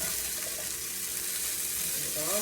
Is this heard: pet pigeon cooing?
no